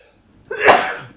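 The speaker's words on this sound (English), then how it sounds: "I just had a sneeze" A single sharp human sneeze bursts out close and loud after a short quiet lead-in, then trails off quickly.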